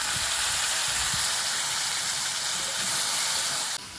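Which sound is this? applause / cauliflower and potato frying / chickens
cauliflower and potato frying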